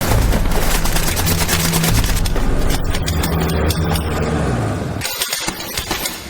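Rapid bursts of nail-gun fire rattle loudly over a roaring engine-like din, the barrage continuing for several seconds before breaking into scattered pops.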